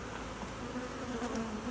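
Honeybees buzz around an opened hive during drone frame removal early in the morning, a soft, steady hum of many wings with slight pitch shifts as individual bees pass close.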